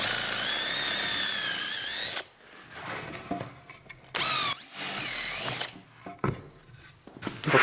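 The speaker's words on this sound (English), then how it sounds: "make sure the angle on my drill is ever so slightly so that the screw will go into the timber and not out." A power drill drives a screw into oak timber for a casement window frame, with a close, loud whine that stops, a second shorter burst, and handling clicks in the pauses.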